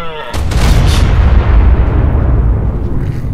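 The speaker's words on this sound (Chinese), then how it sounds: "爆炸了。" Explosion in ARK: Survival Evolved on the desert map: a loud, sudden boom bursts out and rolls on as a thick sustained rumble that slowly fades, with no talking.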